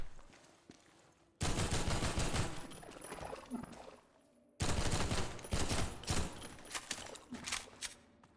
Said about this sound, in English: Seven shots. 7 shots for a barnacle.